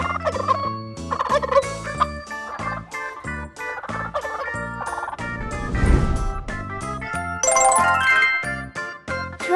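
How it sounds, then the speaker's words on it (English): Turkey gobbling amid a bouncy, tinkling musical backing, with bright chime accents and a low rumbling swell near the middle. "Turkey."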